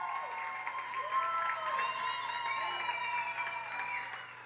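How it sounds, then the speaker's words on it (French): An audience at a festival's programme-launch press conference claps warmly, a moderate, continuous patter of applause with some voices mixed in. "On peut l'applaudir."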